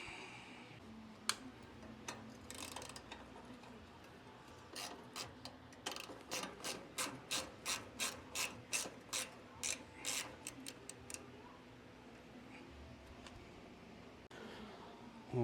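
A ratchet wrench works bolts on a utility trailer tail light: a quick run of evenly spaced, crisp clicks, fairly close and faint, with quiet pauses before and after.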